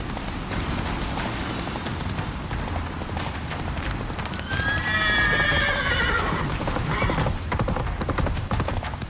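Roach, the horse in the Witcher 3 video game, clip-clops steadily on hooves, then lets out a loud, drawn-out whinny midway before the hoofbeats carry on.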